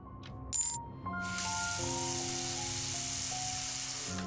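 A steady hissing pour of water into a trash can in a puzzle video game begins after a couple of brief clicks and continues evenly to the end, with a faint musical tone underneath.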